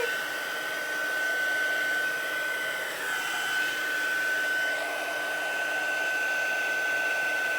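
A hair dryer blows steadily at close range, pushing blobs of water across a stamped watercolour card background, with a constant whirring hum and no speech over it.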